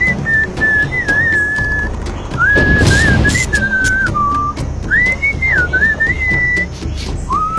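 Melodic whistling from the video game Sam & Max Beyond Time and Space, a lilting tune of rising and falling phrases that runs steadily over a busy background of game ambience, with a louder noisy burst partway through.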